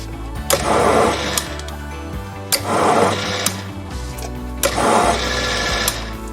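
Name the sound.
metal lathe cutting a thread with carbide tool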